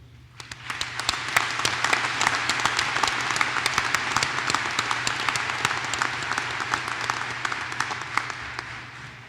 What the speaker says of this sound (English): please give all our exceptional faculty and staff a round of applause